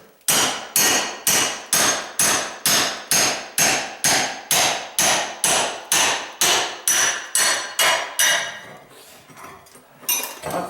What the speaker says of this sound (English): This hammer is going to work fine. All you're going to do is beat a little bit out at a time to it.